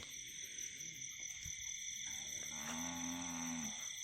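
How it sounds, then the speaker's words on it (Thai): A cow lets out one long, low moo at night beside a rice field, heard at moderate distance over a constant chorus of insects and frogs. "วัวร้องเรียกหาเจ้าของนะครับ เจ้าของไม่มาเอาสักที"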